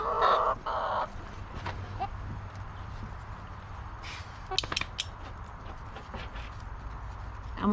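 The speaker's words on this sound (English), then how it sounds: "let my chickens out." Chickens cluck in short bursts near a coop as they are let out, with faint footsteps and light rustling in a quiet outdoor setting.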